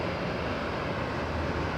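A Boeing 787 Dreamliner at Los Angeles International Airport gives off a loud, continuous broadband jet roar that stays constant for a brief moment.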